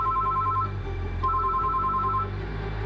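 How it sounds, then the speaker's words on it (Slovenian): A telephone rings unanswered, with two long electronic ring tones separated by a short gap over a low background hum. "A Tadinov telefon zvoni v prazno."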